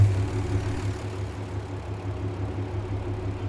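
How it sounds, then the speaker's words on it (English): A diesel truck engine idles in State of Decay 2, a steady low, throbbing hum that holds evenly throughout with no talking over it. "Gotta love that diesel sound."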